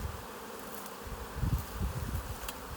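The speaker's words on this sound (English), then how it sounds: "You're going to have some bees that are flying, don't worry." Honeybees from a newly installed package buzz and fly around a hive, a faint continuous hum with a few closer passes swelling louder near the end.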